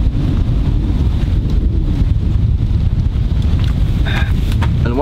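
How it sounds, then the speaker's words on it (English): Steady, heavy wind blows across the microphone at a campsite beside a spring river, a constant low rumble with no letup, and a voice comes in briefly near the end. "Okay, it's a little bit windy."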